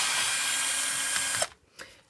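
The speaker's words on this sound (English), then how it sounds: "I want to remove this screw." A screw is removed from a Bugaboo Cameleon stroller with a steady, close power-driver whir that stops abruptly, followed by a couple of small clicks.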